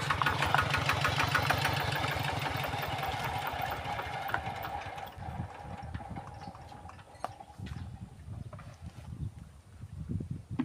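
A small single-cylinder walking tractor engine chugs in a fast, steady rhythm in rice fields, loud at first and then dropping to a quieter, uneven putter.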